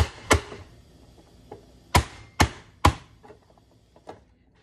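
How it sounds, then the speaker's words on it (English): A manual veggie chopper cutting onions snaps down in several sharp, close chops at irregular intervals, with quieter clicks and rattles between them and no talk. "I'm gonna put it down and we're gonna do our first chop."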